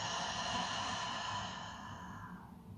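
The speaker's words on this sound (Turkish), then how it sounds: "Derin nefes al. Ağızdan bırak." A long, deep breath is released through the mouth during a yoga session, a soft, steady airy exhale close to the ear that gradually fades, with no talking.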